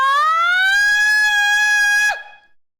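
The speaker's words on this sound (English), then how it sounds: "Sounds like a tornado siren." A tornado siren in the video game Stray wails as one loud, sustained rising tone with strong harmonics, holding steady for about two seconds before cutting off abruptly and fading, with no talk over it.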